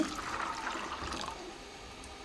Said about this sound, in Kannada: ಈಗ ಇದಕ್ಕೆ ನೀರು ಹಾಕ್ಕೊಳ್ಳೋಣ